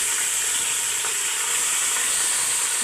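Mutton pieces coated in ginger-garlic paste and salt fry in hot oil, sending up a loud, steady, hissing sizzle that runs unbroken and close.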